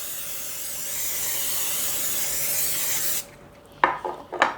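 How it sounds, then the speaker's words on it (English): Cooking spray hisses in a long continuous burst over an 8-inch square baking dish, close and steady for about three seconds, then stops, followed by a few light clinks. "I'm going to spray that."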